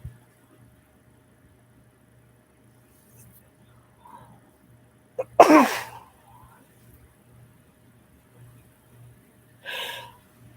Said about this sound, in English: Sneezes going on.